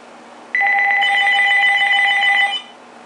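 A Uniden EXAI978i 900 MHz cordless phone rings with a bright electronic warble that starts abruptly, holds steady and close for about two seconds, then stops, leaving faint room hiss.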